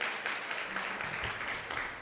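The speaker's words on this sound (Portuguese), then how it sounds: "louvar eles, aplaudi-los?" Church congregation applauding a couple who stand before them, a dense, steady wash of many hands clapping that continues without a break.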